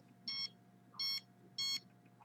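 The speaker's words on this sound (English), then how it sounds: "the other alarm, the other detector." A signal detector alarm sounds three short, evenly spaced electronic beeps, each about a fifth of a second long, over a faint steady hum in a quiet indoor room.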